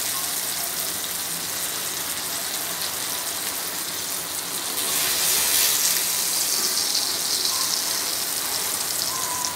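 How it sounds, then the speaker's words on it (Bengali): Garlic and dried red chillies frying in oil give a dense, continuous hiss that swells louder about halfway through as the chillies go in, heard close up with no talking. "রসুনগুলো আমার ভাজা হয়ে গেছে, এ পর্যায়ে এসে আমি শুকনো মরিচগুলো দিয়ে দিচ্ছি।"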